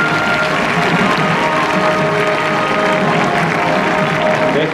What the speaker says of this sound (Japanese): 本日の皆様盛大な拍手をお願いいたします